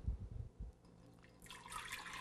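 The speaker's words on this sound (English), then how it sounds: "What I like to do now is transfer it to the glass jar" Warm coconut water poured into a glass jar for coconut kefir: a soft liquid trickle and splash building over the final second, after a few dull low knocks at the start.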